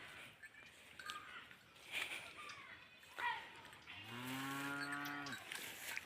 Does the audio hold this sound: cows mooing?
yes